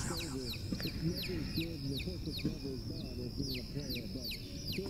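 High, repeated cheeping of chicks goes on throughout, mixed with lower clucking of fowl and a busy, dense murmur of birds, all heard faintly at night with a TV on.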